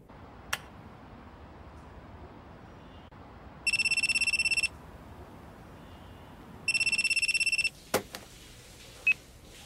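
A telephone rings indoors in two separate electronic bursts, each lasting about a second, with a pause between them and only faint clicks and room quiet around them.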